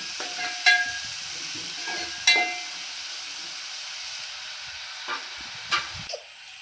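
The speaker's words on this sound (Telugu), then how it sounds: "ఉల్లిగడ్డ తొందరగా ఫ్రై కావడానికి కొంచెం ఉప్పు వేసుకుంటున్నా. ఉప్పు వేసి ఒకసారి కలుపుకోండి." Onions frying with a pinch of salt in a pan, a soft continuous sizzle broken by a few sharp spatula scrapes and clinks as the mixture is stirred, fading quieter toward the end.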